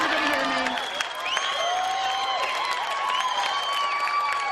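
Studio audience cheering and applauding steadily throughout, with whoops and shouts rising over dense clapping at a fairly loud, even level.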